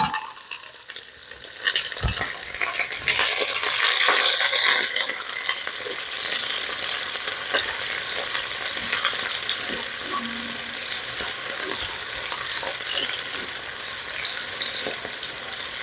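Rough cut whole onion hitting a hot pan and frying, a steady loud sizzle with occasional stirring scrapes, no talking over it.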